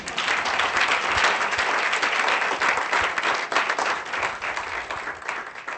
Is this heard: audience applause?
yes